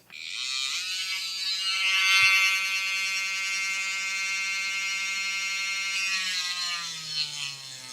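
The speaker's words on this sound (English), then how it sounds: "I'm going to see what I can do to Dremel out or cut out some of this" A Dremel rotary tool whines at a steady high pitch while cutting a plastic Warhammer 40k Tau battlesuit model arm, the tone holding close and continuous before dipping slightly near the end.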